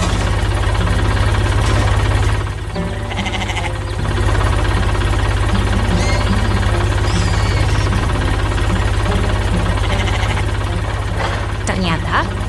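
A yellow tow truck engine in a 3D construction animation hums steadily at a loud, constant level, with a low idling drone and faint mechanical rattles throughout, set against other construction vehicles.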